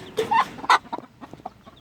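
Broody hens clucking close by inside a chicken coop, a handful of sharp, throaty clucks in quick succession, the loudest early on, followed by softer, scattered clucks.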